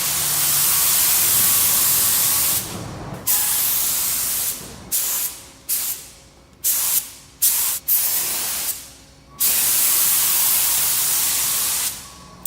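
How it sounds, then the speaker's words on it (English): Broad hissing spray from a spray gun applying sealer to a plastic bumper cover panel runs in bursts, long at first and then in short on-off blasts, with brief silent gaps between trigger pulls. "I'll start by spraying all the corners, edges, and these areas first"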